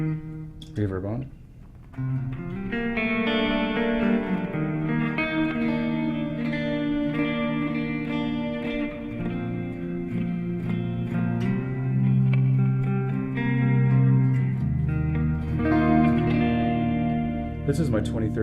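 Gibson Les Paul Junior from 2013 with Burst Bucker pickups played through a '68 Fender Custom Deluxe Reverb amp with reverb on; ringing chords and picked notes blur into lush ambient decay, steady and prominent, with no speech.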